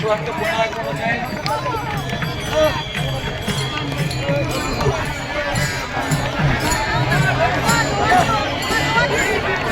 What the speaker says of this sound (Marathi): अश्व पुन्हा येत आहे